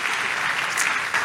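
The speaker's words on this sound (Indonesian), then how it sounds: "Kasih tepuk tangan yang meriah untuk Tuhan Yesus" A church congregation bursts into steady, dense applause, a continuous wash of many hands clapping together, fairly loud and unbroken with no voices over it.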